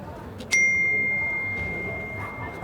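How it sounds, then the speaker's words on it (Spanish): A mobile phone gives a single bright bell-like ding that rings out and slowly fades, heard over a low background murmur. "¿Cómo es posible que este artilugio emita ese sonido?"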